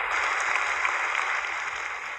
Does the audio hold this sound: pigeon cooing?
no